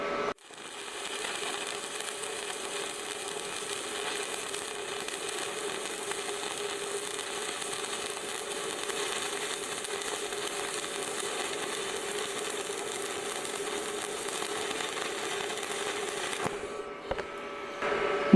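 Arc welding on thick steel plate with a stick electrode gives a steady, faint crackling sizzle that runs unbroken for most of the clip before cutting off near the end.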